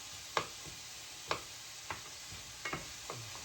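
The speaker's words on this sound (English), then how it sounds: "So I'm going to add about 2 onions sliced fine. I'm going to fry these up." Finely sliced onions fry gently in a pan for beef pies under a soft, steady sizzle, punctuated by five or six quiet, evenly spaced spoon taps and scrapes.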